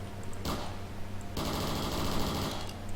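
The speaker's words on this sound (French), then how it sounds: "il tire comme bien en rafale. Ah, oh, il tire en rafale." Glock pistol in a video game firing in rapid bursts, two clusters of fast, loud shots with a short gap between them and no talking.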